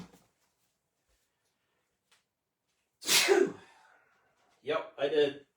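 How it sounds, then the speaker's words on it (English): A single sneeze indoors, loud and close, with a sharp intake and burst, followed a moment later by a person speaking. "Excuse me, I feel like I got to sneeze."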